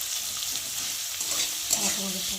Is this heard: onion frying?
yes